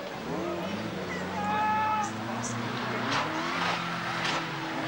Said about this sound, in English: This old Chevette gets stuck,